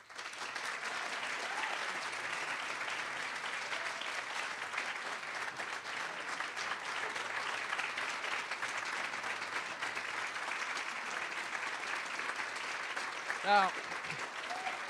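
An audience in a college lecture hall gives steady, sustained applause for about fifteen seconds. It is dense and even, heard from within the crowd, and near the end a voice briefly speaks over it.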